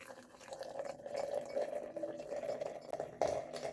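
Hot water at about 200 degrees trickles and pours from a kettle into a tea blend containing hibiscus, a soft steady liquid stream with faint splashing, fairly quiet and close.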